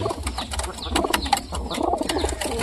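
Soft, repeated pigeon coos over a low rumble, with light fluttering and rustling sounds close by.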